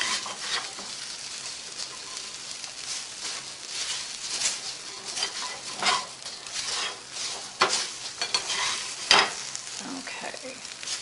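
Hash browns fry in a skillet with no oil, giving a steady close sizzle with crackling bursts and occasional stirring scrapes.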